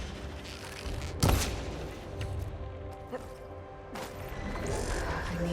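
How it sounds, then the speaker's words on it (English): A gunshot strikes the cable coupling of a robotic arm in Horizon Forbidden West, one sharp loud crack over a steady mechanical hum, followed by a fainter later impact. "Maybe I can shoot the coupling in the arm."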